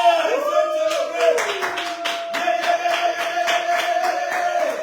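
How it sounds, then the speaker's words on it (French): A congregation at a prayer gathering claps in steady rhythm to celebrate, with the clapping close and regular under sustained singing voices. "Applaudis et célébrer."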